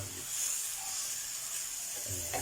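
Bitter gourd and mushrooms stir-frying in a pan without oil give off a steady, fairly quiet hiss and sizzle that runs through the whole moment, with a faint clatter near the end.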